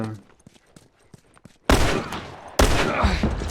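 Gunfire in The Last of Us as a player burns through ammunition: quiet shuffling and clicks, then two loud, close shots about a second apart, each followed by a roaring echo.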